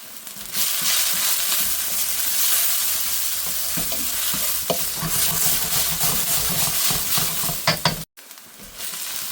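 Onions sizzling gently in ghee with salt in a pan, a steady frying hiss with occasional spoon scrapes and stirring clinks, close and continuous.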